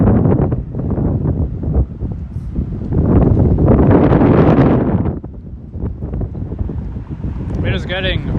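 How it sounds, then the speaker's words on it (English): Wind gusts buffet the microphone on a beach walk, rough rumbling bursts that swell and ease in waves, loud and close, with a brief higher squeal near the end. "It is getting windy."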